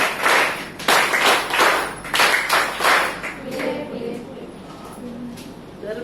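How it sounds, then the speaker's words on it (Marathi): An audience at a cervical cancer screening and vaccination awareness event at PHC Panvel claps in loud, rhythmic bursts. The clapping then fades into murmuring voices. "तो जोरदार टाळ्या तुमच्या पद्धतीच्या परत वाजवा."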